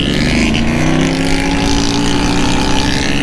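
A Titan motorcycle with a modified exhaust revs loud and close, its engine roaring steadily with a raspy, droning tone throughout and no talk.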